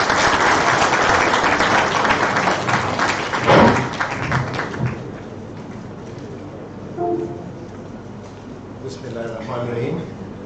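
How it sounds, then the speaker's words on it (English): An audience at a medical school's multidisciplinary clinical session on obesity gives the Dean a round of applause. Loud, dense clapping fills the first half and then fades as a voice begins speaking. "A round of applause for our Dean, sir."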